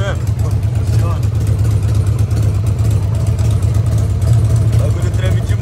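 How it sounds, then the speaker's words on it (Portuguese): A 25-year-old Harley-Davidson motorcycle engine runs at a steady idle, close and loud, with a deep, even low rumble throughout and a voice faintly over it. "Toda vez que eu ligo essa moto aqui"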